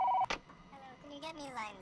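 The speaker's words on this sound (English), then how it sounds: "The phone's ringing." An office telephone rings inside the VR game Job Simulator, a short electronic ring burst heard up close before fading into background game tones and chatter.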